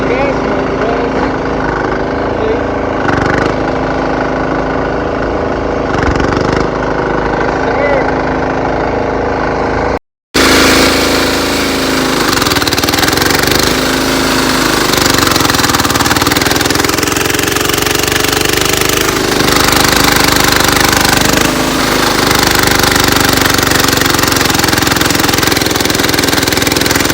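A cheap Amazon diesel engine runs continuously, a loud steady mechanical drone with rhythmic knocking, cutting out briefly for a moment before resuming at the same strong level.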